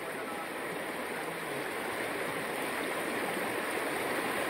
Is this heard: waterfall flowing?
yes